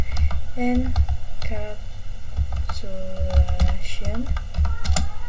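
Quick clattering keystrokes on a computer keyboard while entering network configuration commands, in uneven bursts of taps, close by and mixed with someone talking.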